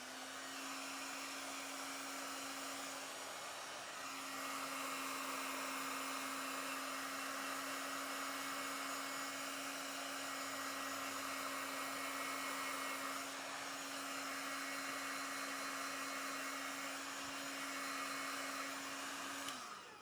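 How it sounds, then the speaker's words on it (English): A heat gun shrinking tubing on a butt connector runs as a steady, close whooshing blower with a constant motor whine for the full stretch, cutting off at the end. "I recommend using a heat gun"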